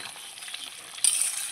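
A metal lid lifts off a pot of jackfruit and potato curry, giving a short bright clank and sudden hiss of steam and simmering after a steady low background of cooking sizzle.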